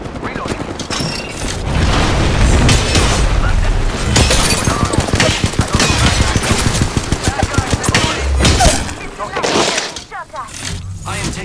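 Dense, rapid gunfire from the Apex Legends video game, bursts of automatic shots and booms running almost continuously at close range, with a voice talking over the barrage.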